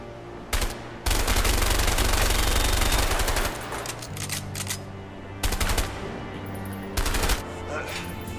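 Rapid bursts of automatic gunfire in the video game A Way Out crackle loudly in short and long volleys, separated by brief pauses, with mechanical clatter between them.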